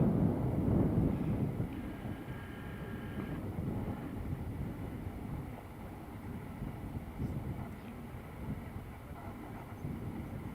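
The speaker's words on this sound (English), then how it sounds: "Ryanair about to go over" A Ryanair airliner passes overhead with a low, distant, continuous rumble that is strongest at the start, mixed with wind buffeting the microphone.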